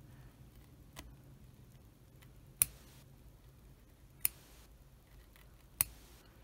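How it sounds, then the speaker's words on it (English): Small scissors snip an embroidery thread knot from the back of a design, giving three crisp, isolated clicks spaced a second or more apart over a quiet room, with a few fainter ticks between them. "So we'll just cut that knot gently from the back."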